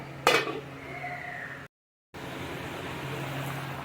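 A pot of katla fish curry with potato, ridge gourd and papaya rattles as its lid is set on, one sharp clatter over a steady hiss of cooking, then a short cut and continued simmering.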